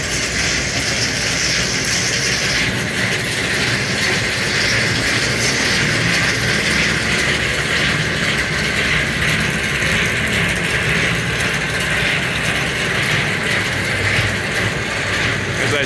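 Davis S40 paddle mixer/blender driven by a 30 horsepower three-phase motor, running with a steady, dense mechanical clatter and ratcheting rattle that holds constant throughout, no voices.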